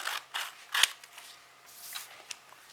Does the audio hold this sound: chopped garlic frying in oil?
no